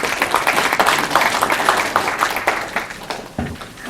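An audience at a 100-person roundtable forum on sustainable development in Jecheon applauds to welcome a high school teacher's proposal. Dense, steady clapping fills the room for about four seconds, then thins out near the end.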